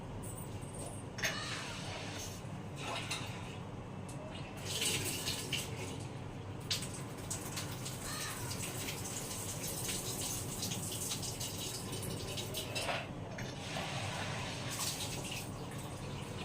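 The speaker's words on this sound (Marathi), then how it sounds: "आता हे स्वच्छ धुवून मी त्यात पाणी घेते" Water is poured from a tap into a pot of soaked green chickpeas, making a steady, low-level gushing and splashing that runs on for a long stretch with slight surges.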